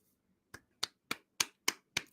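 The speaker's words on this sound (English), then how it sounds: "Golf clap. Golf clap." A slow golf clap at a TEDx talk: six sharp, isolated hand claps, evenly spaced and fairly quiet, with silence between them.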